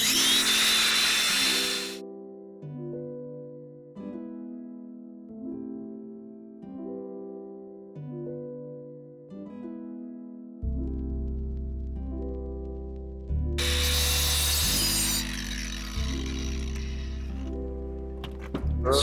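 A cordless battery grinder works over the face of a cracked Bath stone lintel during masonry repair, starting with a loud harsh burst, then revving in short repeated pulses of rising and falling whine, with further gritty grinding bursts later.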